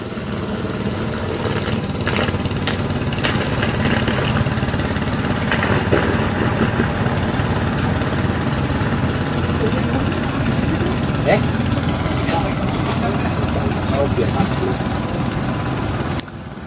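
A small motorboat motor on Lake Rawapening, Java, chugs steadily throughout, a rough rattling drone at close range, with faint background noise.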